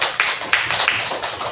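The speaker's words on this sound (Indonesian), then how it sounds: "Tepuk tangan buat kita semuanya." Applause at a positive school culture event, a dense burst of clapping hands with sharp repeated peaks running steadily through the short stretch, loud and close with no voices over it.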